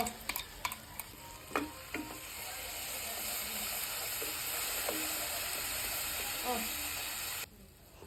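Cashew, raisin and green chili paste being stirred in a frying pan, with a steady sizzle and scattered scraping clicks of the utensil against the pan, fairly close and without talk.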